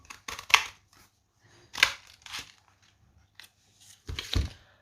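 Scissors cut out a stamped paper leaf in three separate bursts of crisp snipping, close and fairly quiet, with pauses between the cuts.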